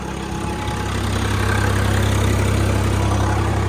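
An engine drives a generator at about 1200 rpm on a farm, idling as a steady, loud low drone with no pauses or talk.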